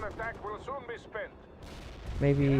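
Bombs go off in the strategy game World in Conflict, giving low booming blasts beneath a voice that talks first. Lighter pops follow, then a louder rumble with a tonal hum near the end.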